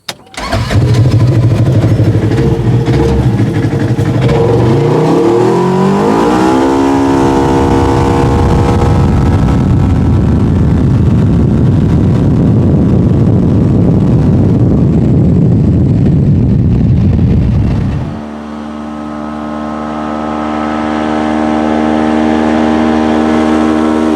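A UTV engine fitted with aftermarket horsepower upgrades starts and revs up in high range, rising loudly and holding a strong drone before dropping back to a steady idle.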